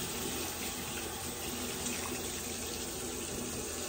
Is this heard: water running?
yes